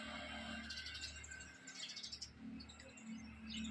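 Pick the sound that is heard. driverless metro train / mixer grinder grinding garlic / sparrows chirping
sparrows chirping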